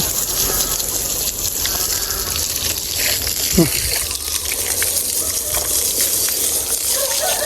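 Water sprays hard from a hose during a hectic bath, a loud continuous hissing gush that runs the whole time, with people talking over it.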